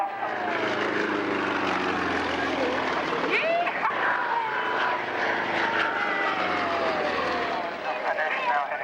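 A propeller aircraft flies past during the 1994 Woodvale air display, its engine drone loud and steady throughout, with announcer speech running over it.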